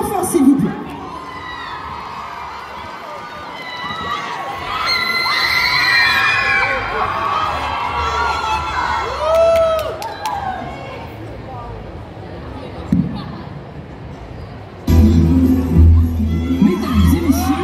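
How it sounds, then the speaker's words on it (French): At a Paris cosplay contest, a crowd greets an Arlecchino cosplayer with shrill shouts and cheers that rise and fall beneath a host's amplified voice, ending in a louder burst of noise. "C'est parti, on l'applaudit bien fort s'il vous plaît."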